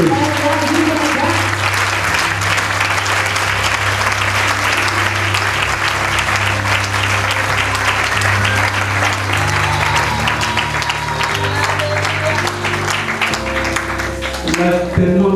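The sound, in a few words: audience applauding and acclaiming Jesus Christ at a church service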